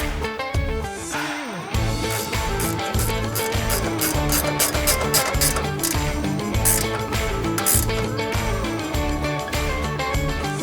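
Four bolts are fastened onto a reinforcement plate of a 2022 P|Flux dust collector. Loud, close, rapid ratchet clicking and metallic mechanical rattling run almost continuously, with a short scrape near the start.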